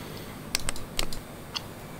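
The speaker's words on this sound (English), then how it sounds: "you enter the squawk by using the numeric keyboard" A few crisp clicks sound as keys are pressed on the numeric keypad of a KT76C transponder in an A2A Cessna 172 flight simulator, three or four separate taps spaced apart over a quiet background hum.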